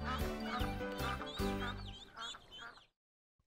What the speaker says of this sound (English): Mama duck said quack, quack, quack, quack.